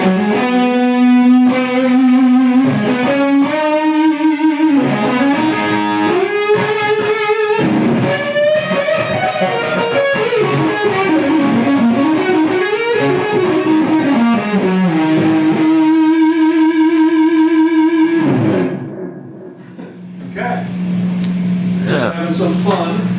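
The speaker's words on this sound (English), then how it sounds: "You want to hear the fuzz at this volume?" A guitar played through an amp with a fuzz effect switched on, giving a loud, thick, distorted tone that sustains through a run of notes and bends before a brief dip and a final buzzing chord.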